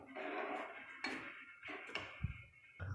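Soaked rice for matar pulao is stirred in a metal pot, with soft scraping and a few quiet clanks of the spoon against the pot, fairly faint and close.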